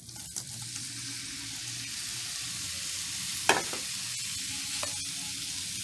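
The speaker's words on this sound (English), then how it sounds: "I'm going to go ahead and add our shrimp in." Shrimp for Cajun shrimp pasta sizzle in a hot pan, giving a steady close hiss with a few brief pops and one sharper clatter partway through, with no talking.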